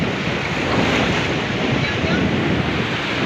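Heavy waves roar in a loud, unbroken wash of surf and rushing water, with wind buffeting close to the microphone.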